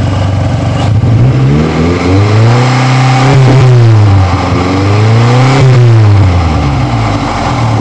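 A 1996 Chevy Cavalier with a 2.4 liter engine revs up close and loud, rising and falling repeatedly as it bounces off the rev limiter in several rhythmic surges.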